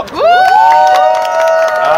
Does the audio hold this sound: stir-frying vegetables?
no